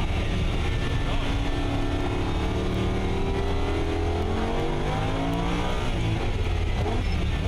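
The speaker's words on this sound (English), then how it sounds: "behind us is an angry field of a whole bunch of race cars that are all ready to race" A field of race cars pulls away at the start of the NASA 25 Hours of Thunderhill endurance race, engines droning and rising in pitch in a loud, continuous roar heard from close by inside a car.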